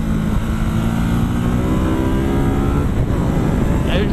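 A Ducati SuperSport S motorcycle ridden through curves, its engine droning loud and steady close to the rider with a rough, continuous hum and wind noise throughout.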